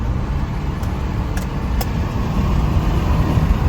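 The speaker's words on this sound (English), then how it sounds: "So we'll go for another test drive." A Subaru Forester XT on a test drive, with a continuous engine and road rumble heard from inside the car and a few faint clicks over it.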